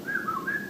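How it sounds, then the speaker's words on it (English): A person whistles a short signal call in a department store, a clear wavering tone that rises, dips and rises again, fairly faint and alone without talk. "We always find each other in the department stores by a whistle"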